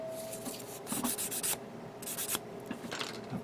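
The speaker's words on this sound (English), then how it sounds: "I'm going to do a little sanding here also," Close, quiet sanding strokes on a small plastic part from a 1/144 HG Gundam Sinanju Stein model kit, a series of short scratchy rubbing bursts in an uneven back-and-forth rhythm.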